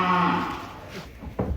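A unique show cow unloaded from a truck at an APPSI cattle contest gives a single loud, drawn-out low moo close by, tapering off into a brief shorter grunt.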